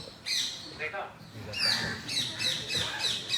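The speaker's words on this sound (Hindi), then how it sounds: "तोते को कहते हैं शुक।" Parrot squawking in a repeated series of harsh, bright calls, fairly close, with a voice speaking briefly over them.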